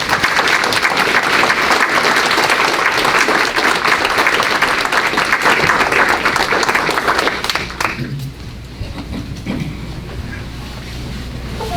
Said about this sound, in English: Let's give Commissioner Moaney another round of applause, and also Pastor Brown for that warm welcome